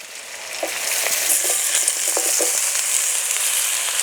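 Spinach frying in a pan with fried potatoes, salt and turmeric for a fish-head curry, a dense continuous sizzle with scattered stirring clicks, near and unbroken by speech.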